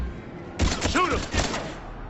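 Bursts of sci-fi gunfire ring out in a firefight in Mass Effect 3, rapid clustered shots filling most of the moment at close range, with voices faintly present.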